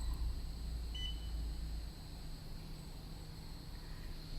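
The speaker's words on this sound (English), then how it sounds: "You see here it alarms" A thin, high electronic alarm tone sounds steadily from a machine signalling a discharge-not-cleared fault, over a low background hum, with no voices.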